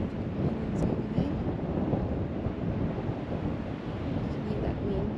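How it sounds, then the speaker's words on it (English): Strong wind buffets the microphone on a remote coastline, a loud continuous roar with gusty rumbling and no voices. "Hear that wind."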